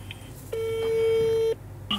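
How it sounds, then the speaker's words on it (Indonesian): A telephone call to a restaurant in Banten, Indonesia, gives one loud, steady electronic tone lasting about a second, then a brief quieter blip after a pause. "Kita coba telepon dulu ya."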